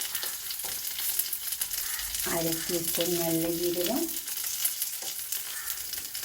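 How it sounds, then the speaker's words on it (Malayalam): Mustard, fenugreek, fennel and cumin seeds roast together in a pan for sambar, giving a soft continuous sizzle and crackle while someone speaks over it. "ഇതെല്ലാം നമുക്ക് ഒന്നിച്ചിട്ട് വറുത്തെടുക്കാം"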